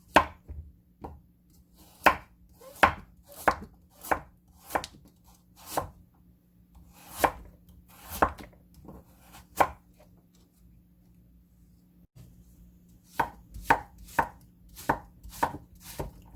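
A knife chops a carrot into thin julienne strips on a board for Korean chive kimchi: crisp, sharp taps in irregular clusters, close and clear against a quiet background hum.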